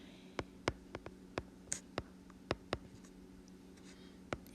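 Marker or chalk tapping and scratching on a board while solving a system of equations, a series of short, crisp clicks and strokes at irregular intervals over a steady low room hum.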